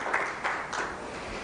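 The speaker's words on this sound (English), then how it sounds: "Can we clap for ourselves?" Audience clapping at a World Tourism Day event, a short, moderately loud burst of hand claps with a few distinct accents.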